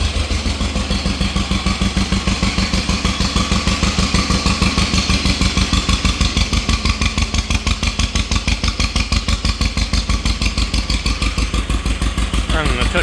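An old, rare tractor engine, parked for years and just restarted, runs a touch rich with a dirty carburetor, chugging in a steady, loud, close rhythm of rapid firing pulses for the whole stretch.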